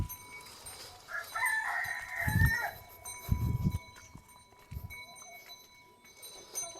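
Free-range country chickens and a rooster on a farm: a rooster's crow rises in the middle, with scattered low clucks and scuffling around it, moderately near and fairly quiet, no talking.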